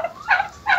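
A turkey gobbles twice in quick succession, close and loud, with short rattling calls and no talking.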